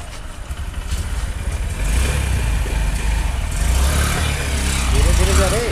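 A Honda SP 125 BS6 125cc motorcycle engine runs with a steady low rumble that builds slightly as it revs, heard up close with a voice talking over it.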